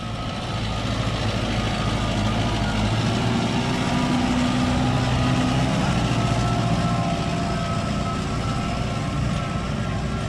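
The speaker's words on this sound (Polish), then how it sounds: "mogą mieć wrażenie, że ten ciągnik gdzieś tam się dusi" Forterra tractor ploughing wet ground after manure spreading with an Akpil KM80 plough, its engine labouring in a loud, continuous, low drone that stays close and steady throughout.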